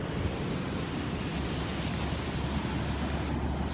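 Pacific Ocean surf rolls in a constant loud roar, dense and unbroken, with wind buffeting the microphone throughout and no voices.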